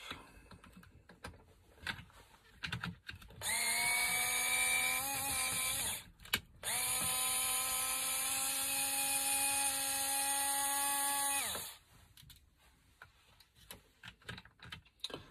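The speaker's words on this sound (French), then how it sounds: "J'utilise la visseuse, je me prends pas la tête parce qu'au tournevis, demain vous êtes encore là." A cordless power screwdriver driving out screws whirs in two long, steady high-pitched bursts of several seconds each, split by a brief stop, with faint handling clicks before and after.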